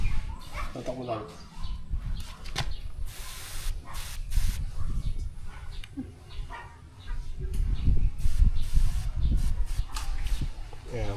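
Termite spray hissing in steady, close bursts onto a nipa hut, with people talking over it and some background clatter throughout.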